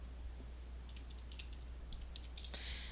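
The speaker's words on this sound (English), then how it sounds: "We're going to type that into our calculator." Numbers tapped out on calculator keys: a handful of light, scattered clicks that cluster more densely near the end, quiet over a steady low hum.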